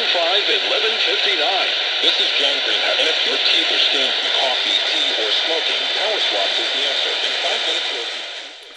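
An Aivica AM FM NOAA weather alert emergency radio tuned to a station near the top of the band, its broadcast steady and fairly loud with static hiss behind it, fading slightly at the end.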